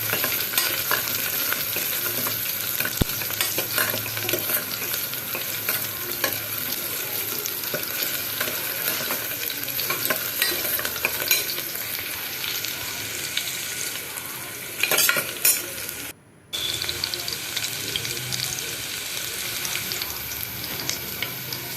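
Tomato and elephant yam for a kulambu fry in a hot pan with a steady, crackling sizzle as a spoon stirs and scrapes, continuing for over twenty seconds with a brief pause near the end.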